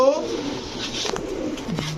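Pigeons sold in pairs coo in short, soft throaty phrases, close by, under a voice talking over them for most of the moment.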